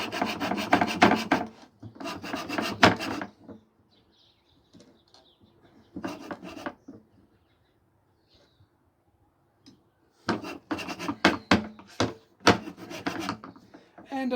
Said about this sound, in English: If you keep the blade straight and swivel the thing, you can cut in different angles.